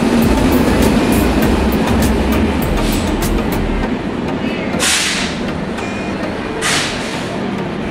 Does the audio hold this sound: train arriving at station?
yes